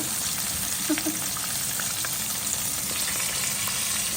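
Homemade Thai fermented fish (pla som) fries in a pan with a steady, soft sizzle and small pops, quiet and continuous with no talk.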